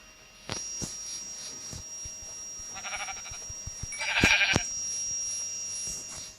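A Minecraft sheep bleats twice, the calls bright and synthetic over a steady electronic hum, with a few soft clicks around them.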